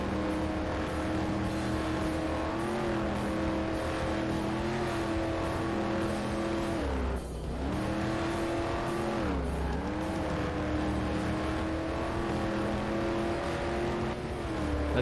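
Corvette race car engine in a PC racing game, holding a steady high drone with shifting harmonic pitch, dipping briefly around mid-clip before climbing back, with faint game music underneath and no talk.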